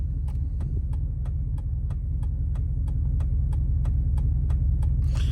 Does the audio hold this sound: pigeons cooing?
no